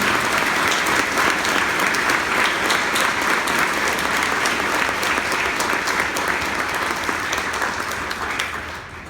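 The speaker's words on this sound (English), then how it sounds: "let's give them a round of applause" Steady, loud applause from an evening crowd welcoming guests from Canada, dense and even throughout, easing slightly in the final second.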